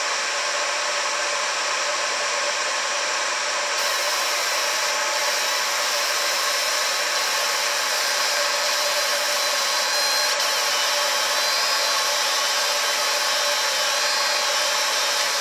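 A fiber laser etching through a paint layer in a crosshatch pass, a loud steady hiss with a faint high whine held unbroken throughout, no voices.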